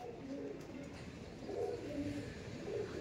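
Pair of Kaldom pigeons cooing in soft, repeated low coos over steady background noise, with calls recurring several times across the short stretch.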